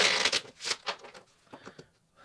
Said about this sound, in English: Shuffle one more time and then we pull from the top.